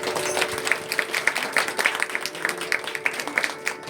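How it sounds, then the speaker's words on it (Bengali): An audience at a cultural program of music and yoga claps for the performers, with a steady run of moderately loud, overlapping handclaps across the whole stretch. "আজকে সবাই ওদের জন্য একটু হাততালি দেওয়া হোক"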